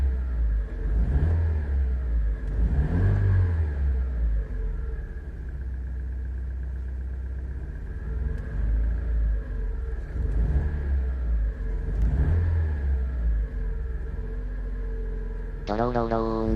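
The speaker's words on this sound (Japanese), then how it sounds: "ドローローローン、ドローローローン、と吹き上がりがよどんで、鈍くなっていて" A Mazda NB Roadster engine revs repeatedly with a low rumble, the revs surging and bogging down unevenly in cycles from a hesitation fault, close and steady throughout.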